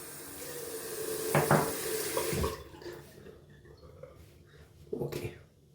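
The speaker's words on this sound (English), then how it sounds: "Just gonna fill up my little shaving brush soaker here with water so I can dip my brush." Tap water runs into a small shaving brush soaker at a bathroom sink, a close hissing stream that starts, splashes and stops, with brief clinks of the bowl and a second short burst near the end.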